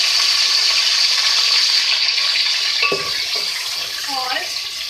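Half a kilo of beef pieces hit hot ghee in a pot, with a broad sizzle and hiss followed by a few clinks and scrapes of a spoon against the pan.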